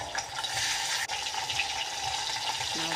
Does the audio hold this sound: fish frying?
yes